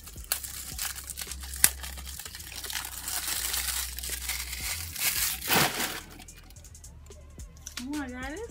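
Thin plastic wrap crinkles and tears as it is peeled off a BH Cosmetics package, steady close rustling for several seconds with a brief sharp crackle, then fading as a person starts talking.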